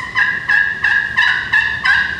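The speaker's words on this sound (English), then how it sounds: "Once they start hitting the ground, you know, then their yelps will be a little more aggressive." A wild turkey gives six evenly spaced yelps, each call clear, loud and close, with no other sound around it.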